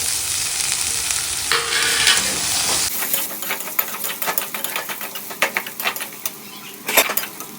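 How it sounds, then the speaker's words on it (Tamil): Onion, garlic and ginger sauté in a pan, with a close, steady sizzle and then a run of quick spatula scrapes and taps against the metal. "எல்லாம் வதக்கிறதுக்காக நம்ம வெங்காயம் சேர்த்துக்கலாம்"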